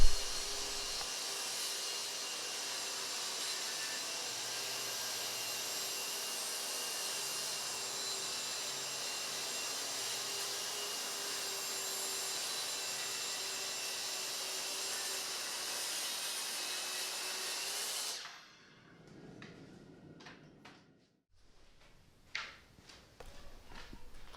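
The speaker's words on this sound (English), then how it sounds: "Now I'll cut the top down to a 60-inch length." A circular saw rips steadily through workbench top boards, cutting them down to a 60-inch length, a loud continuous whine lasting most of the time before it stops abruptly, followed by a few quiet knocks and handling noises.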